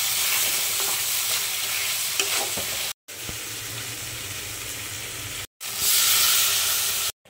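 Tomatoes fry and are stirred in a pan, giving a steady loud sizzle and hiss with scraping stir sounds, broken by two brief cuts and swelling louder near the end.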